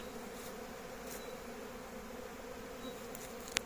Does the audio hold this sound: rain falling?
no